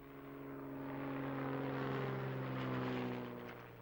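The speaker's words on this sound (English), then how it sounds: "As soon as the plane is refueled, they're off again to try to finish the block" A small propeller plane flies low overhead on a wildlife survey, its steady engine drone rising and holding loud for several seconds before easing slightly as it passes.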